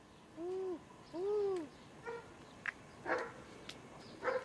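A voice imitates an owl with two rising-and-falling hoots, followed by softer scattered babbling noises.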